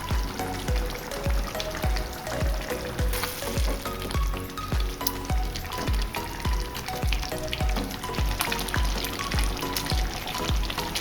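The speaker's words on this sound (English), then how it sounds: "Now that the tomatoes have been squashed" Tomatoes being squashed in a hot pan for a bolognese ragù, with steady sizzling and frying throughout, broken by regular dull thumps about twice a second, close and fairly loud, with no talking.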